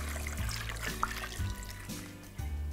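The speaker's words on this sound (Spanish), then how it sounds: "El agua hasta que cubra la papa" Water poured into a cooking pot over white potatoes, a soft, close stream with uneven gurgles and trickles that shift in pitch as the pot fills, quiet and without speech.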